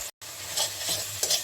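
Chili and turmeric powder sizzle in hot oil while being stirred, a soft, steady frying hiss with faint scraping, brief and close.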